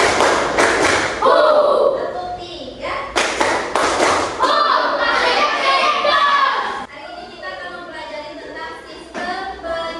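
A class of children claps together in short bursts of loud, close, hollow slaps during a classroom ice-breaker, pausing briefly between rounds, with young voices mixed in.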